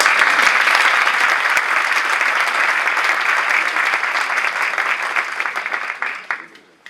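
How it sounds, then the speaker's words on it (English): Loud, sustained applause from a large audience, a dense wash of clapping that holds steady and then tapers off at the end. "Please, another round of applause for"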